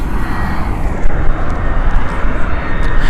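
An EasyJet airliner at Gatwick Airport roars loud and close, a dense, steady engine rumble with a slight swell partway through.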